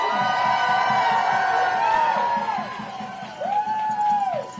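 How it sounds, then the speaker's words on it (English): Cheering crowd of students and teachers at a rally outside City Hall, loud whoops and rising shouts over a steady pulse of crowd noise, sustained and close. "let's get another round of applause for our student speakers"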